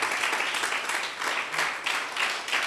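A church congregation claps together, a broad, steady wash of hand claps filling the space at moderate volume with no voices over it.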